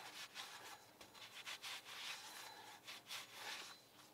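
A rag wipes down a corroded, rusty front brake spindle on a BMW Z4, giving continuous close rubbing and scrubbing strokes in an uneven rhythm with no talking.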